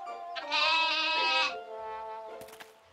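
A goat bleats loudly nearby in a long wavering call, followed by a softer second bleat.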